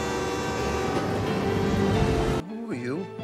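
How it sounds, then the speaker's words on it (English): A train approaching in a film scene, a loud continuous rumble that cuts off abruptly, followed by a voice. "Mister, there's a train coming!"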